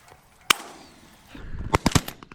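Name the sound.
shotgun shots during pigeon hunt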